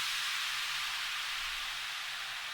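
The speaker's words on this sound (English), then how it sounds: "Another white noise down, a different one." A white noise down effect for music production runs as a dense, steady hiss for a couple of seconds before stopping abruptly, with no voices present.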